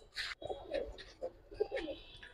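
Gribaz and coloring pigeons cooing softly up close, several short throaty coos in quick succession, fairly quiet.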